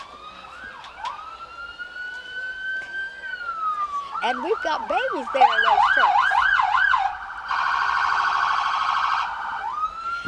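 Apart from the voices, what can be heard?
police car sirens in a parade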